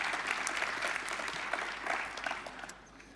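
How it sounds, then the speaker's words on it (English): A conference audience gives a lightning-talk presenter a round of applause, moderately quiet and slightly distant, the clapping fading toward the end. "a big round of applause for Ivan."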